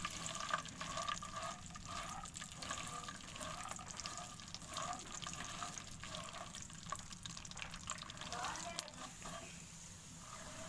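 Walnuts, pistachios, cashews and almonds fry in a pan, giving a faint, steady crackling sizzle that runs throughout.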